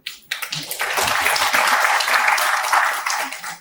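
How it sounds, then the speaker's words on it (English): Conference audience bursts into sustained applause after a brief pause, a dense, steady wash of many hands clapping that holds loud for several seconds before tapering slightly at the end. "Round of applause for them."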